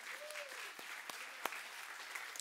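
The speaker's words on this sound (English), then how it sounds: "can we give God a big hand clap for that?" Church congregation applauding during a sermon, a steady wash of many hands clapping, fairly faint and distant, with a few sharper individual claps and a brief voice rising over it.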